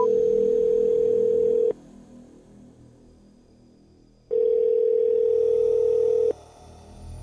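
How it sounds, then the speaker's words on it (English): Telephone ringback tone heard by a caller after dialing a number, two long steady beeps separated by a pause of silence, loud and alone with no voices. "The phone emitted long beeps."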